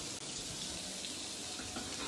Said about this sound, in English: I'm going to get some water running too.